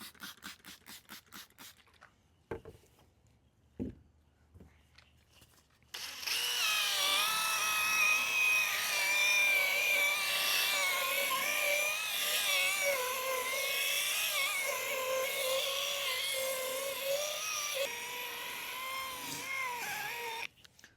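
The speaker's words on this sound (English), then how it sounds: "hit it one more time with that 500 grit sandpaper" A car headlight lens being sanded with 500 grit sandpaper gives a steady, close whirring scrape that runs for about fifteen seconds, after a few sparse knocks and handling noises.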